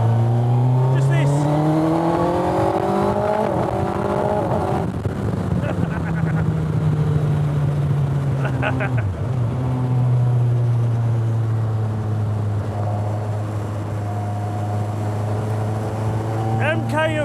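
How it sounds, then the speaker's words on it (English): The Suzuki Hayabusa motorcycle engine fitted to an MK Indy RR car is heard during a test drive, revving loudly and close, with rising and falling pitch through repeated gear changes. "You just need to listen to bike engine noise."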